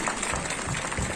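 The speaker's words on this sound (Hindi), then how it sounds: "तालियां और जोर से बजाएं प्लीज।" Brief patch of steady, moderately faint applause from an audience at an outdoor flag-hoisting ceremony in Kishtwar, a dense even clatter of many hands with no pauses.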